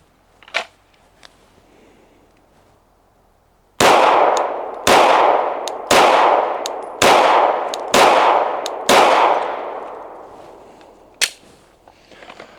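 Six loud pistol shots fired at a target 5 yards away during a beginner grouping drill, evenly spaced about a second apart, each with a sharp crack and a ringing decay, plus a couple of fainter clicks before and after.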